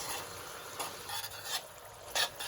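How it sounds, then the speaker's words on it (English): Garlic noodle sauce seasoned with Maggi seasoning is stirred in a pan, giving soft scraping swishes with a few brighter clinks and a faint sizzle underneath, close and steady with no talking. "So we're just stirring it together to blend it."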